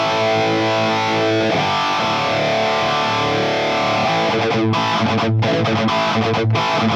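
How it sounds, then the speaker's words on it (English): An electric guitar played through a phaser effect on a Fractal Audio AX8, loud and continuous with a sweeping, swirling tone, and brief choppy gaps toward the end. "I have a phaser which sounds like this."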